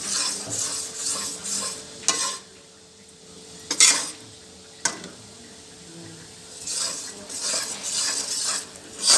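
Roasted gram flour (besan) is stirred in a metal pan, giving repeated scraping strokes and clinks of a spoon against the pan over a soft sizzle, close up, with a few sharper knocks and no voices.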